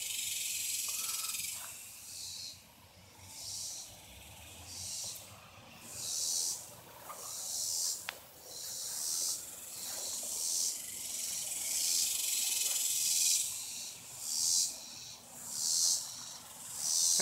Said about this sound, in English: those bugs are really annoying